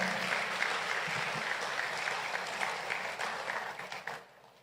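A church congregation at a live service claps in a dense, sustained round of applause that stays loud and steady, then tapers off near the end.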